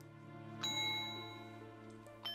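A bright bell chime in The Legend of Zelda: Majora's Mask on Nintendo 64, a clear struck ding that rings out and sustains over a soft tonal backdrop, with a second lighter strike near the end.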